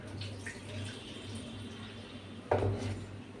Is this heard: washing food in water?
yes